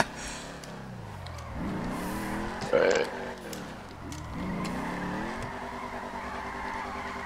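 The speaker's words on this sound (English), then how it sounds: "Damn, it fucking likes to do burnouts, doesn't it?" Car doing burnouts in the video game GTA V, engine rising and falling through revs with a brief harsh tire squeal in the middle, while voices talk over it.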